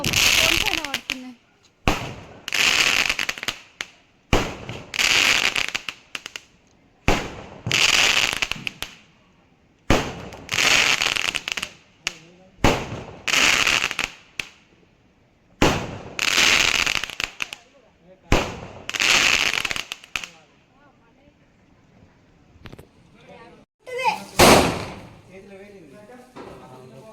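Diwali firecrackers and fireworks burst outside a home during the festival, a rapid series of about nine loud, close explosions in an uneven rhythm, followed by a pause and one last sharp bang, with voices briefly in the background.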